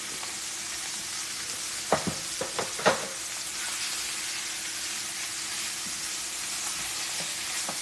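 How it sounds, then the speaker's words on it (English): Short ribs searing in a hot pan give a steady, close frying sizzle throughout, with a few sharp crackles and pops clustered early on, and no talking. "Get that thing a nice sear on it."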